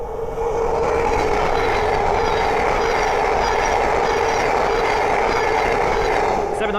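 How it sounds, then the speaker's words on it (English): A Class 700 electric train passes on the East Coast Main Line, a loud, steady roar of traction and wheel noise with a continuous rumble and hum holding throughout at close range. "Okay, we've got two trains coming down."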